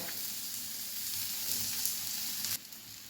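Tomato roasting in a little oil in a pan gives a steady close sizzle and crackle that runs evenly, then drops off sharply near the end.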